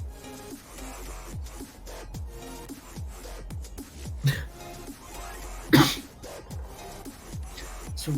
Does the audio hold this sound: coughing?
yes